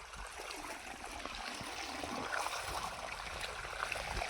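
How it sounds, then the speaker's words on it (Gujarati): Irrigation water flowing into a farm field, a soft continuous trickle and gurgle of running water heard close and fairly quiet, with no talk. "આ પાણી જોઈ શકો કેવું પાણી હાલ્યું આવે છે"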